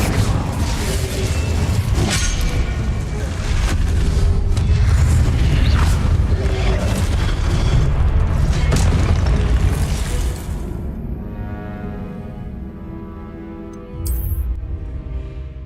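Spell blasts in Hogwarts Legacy gameplay, cast as Confringo and Incendio, hit as a series of heavy booming explosions with crackling debris for about ten seconds, then fade to a quieter ringing tail and a final bright whoosh.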